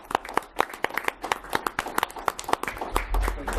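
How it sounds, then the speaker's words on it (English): An audience applauds the Youth Horizon staff at a county board awards ceremony, a dense run of sharp handclaps lasting several seconds, steady and fairly close, with a low rumble toward the end. "I want to give you also a hand of applause,"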